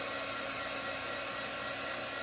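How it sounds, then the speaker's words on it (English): A heat tool blows hot air steadily to dry chalk paste on a craft project, giving a continuous, even whooshing hum like a hair dryer that runs alone throughout. "I have a heat tool, and we're just gonna use that"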